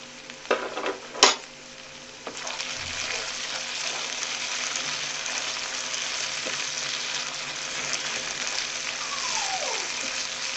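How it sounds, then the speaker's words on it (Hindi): Urad dal stirred in a pot, a steady close bubbling and simmering hiss that runs throughout after a few sharp spoon clinks on the pot at the start. "अच्छे से मिक्स करेंगे।"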